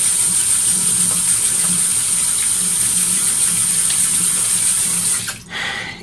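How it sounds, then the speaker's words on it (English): Water runs steadily from a tap over hands as they are wet at a sink. The gush is loud and close and continues for several seconds, then cuts off abruptly near the end. "I literally just run my hands like under the water so it get wet"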